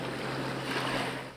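A Ukrainian sea surface drone boat roars across open water, a loud, continuous rush of engine and spray sounding close, then starting to fade at the end, with no voices.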